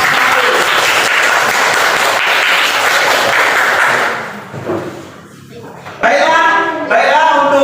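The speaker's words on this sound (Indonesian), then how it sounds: "Kasih tepuk tangan untuk" Students in a classroom applaud for about four seconds with dense, steady clapping, which then fades out; afterward a teacher speaks.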